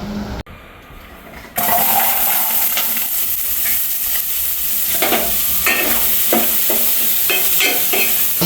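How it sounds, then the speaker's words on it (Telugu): Onions fry in a little oil in a pot outdoors, with a steady loud sizzle that starts abruptly after a brief quiet moment, plus repeated stirring scrapes and clinks close by. "ఈరోజు అయితే ఆయిల్ తక్కువ వేసుకొని మనం ఉల్లిగడ్డలు అయితే వేపుకుంటున్నాం"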